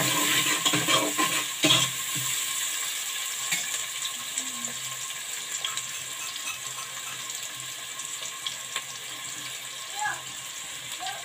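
Onions sizzle with coarse rock salt in a pan, a soft steady frying hiss with occasional stirring clinks and scrapes, while a voice speaks at times over the cooking.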